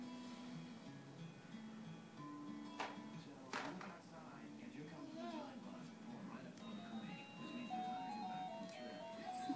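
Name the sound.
toy car talking after button is pushed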